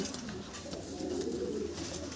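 A pair of young pigeons coos in a soft, continuous low murmur, faint and steady throughout.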